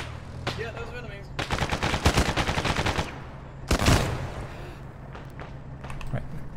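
Enemy gunfire in a shooter game: rapid bursts of automatic shots, then a loud single blast and scattered later shots, with voices talking over the action.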